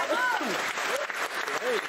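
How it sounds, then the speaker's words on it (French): Studio audience applause on a French TV talk show, a steady wash of clapping through the clip with a voice talking and laughing over it. "On peut l'applaudir, bravo quand même."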